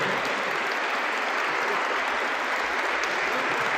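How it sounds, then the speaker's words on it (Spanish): Dense, sustained applause from an audience at a musical gathering, many hands clapping evenly and loudly throughout with no breaks. "sí, por favor, el aplauso."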